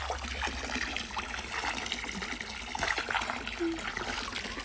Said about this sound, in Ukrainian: десь 7-8 годин треба, щоб набрався цей басейн.